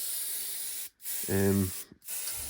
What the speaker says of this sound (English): all I'm doing is literally just misting this using the airbrush